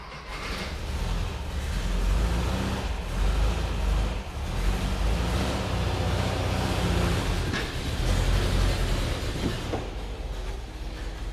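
A 1975 VW Bus rolls along just after a brake repair with an engine still in need of tuning. A steady, broad rumble with faint clacking runs close and continuous for about eleven seconds, with no voices.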